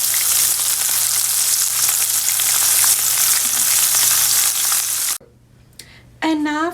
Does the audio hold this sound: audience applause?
no